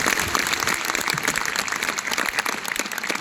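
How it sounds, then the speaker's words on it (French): Audience applause for a guest at a Paris Games Week conference in 2022, a dense steady clapping throughout from a sizable crowd, no voices on top. "On applaudit encore une fois notre grand invité."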